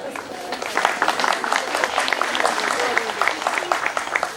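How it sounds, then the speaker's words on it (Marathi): A crowd at a birthday celebration claps loudly and steadily for several seconds. The dense clapping is mixed with voices talking and calling out over it. "जरा जोरदार टाळ्या एकदा जरा झाल्या पाहिजे आपल्या सगळ्यांच्या."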